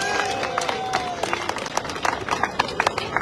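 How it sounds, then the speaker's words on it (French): A crowd at a diaspora gathering claps in a brief burst of scattered, uneven applause, with individual hand claps standing out and voices mixed in. "je vous demande de l'applaudir encore."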